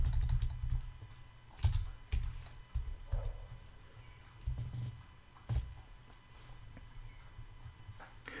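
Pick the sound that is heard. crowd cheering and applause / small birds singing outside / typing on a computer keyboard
typing on a computer keyboard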